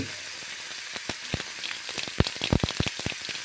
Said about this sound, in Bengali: সর্ষেটা যেমন ফুটফুট ফুটফুট করে ফোটা শুরু করে